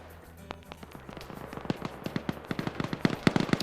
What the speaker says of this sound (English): More grenades being thrown up by Op4 on the attacking side